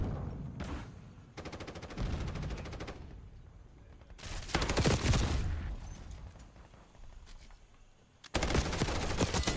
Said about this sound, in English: Enemy sniper shooting.